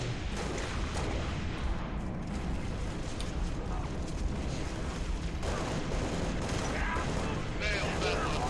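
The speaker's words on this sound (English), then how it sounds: "Suppressing fire." Dense rapid gunfire in Halo Reach rattles almost nonstop, with bursts of weapon fire and battle noise layered over one another and voices calling out in the mix.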